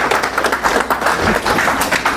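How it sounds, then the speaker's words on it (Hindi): An audience at a literature and music tribute evening for martyrs applauds loudly, a dense, close wash of clapping that swells in repeated surges. "जोरदार तालियों के साथ उनका आप इस्तकबाल कीजिए।"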